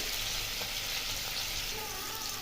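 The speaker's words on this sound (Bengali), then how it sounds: "তার জন্য এখানে আমি আগে পনিরটাকে একটু বাটারে ভেজে নিচ্ছি।" Paneer fries in butter in a pan, a steady, close crackling sizzle that stays even and bright throughout with no voices.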